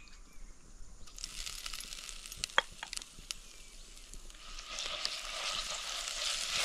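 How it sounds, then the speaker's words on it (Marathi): Mustard seeds, cumin and a garlic-chili paste fry in hot oil over a wood-fired stove, a soft hiss that rises to a fuller sizzle toward the end, with a few faint pops and taps. "तेल गरम झालं की मोहरी, जिरं, लसूण मिरचीचा ठेचा,"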